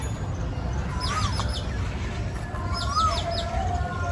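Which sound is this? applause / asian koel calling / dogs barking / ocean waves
asian koel calling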